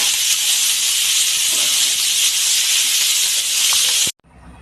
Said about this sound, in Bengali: মাছগুলো একবার দিচ্ছি বেশি ভাজবো না হালকা ভেজে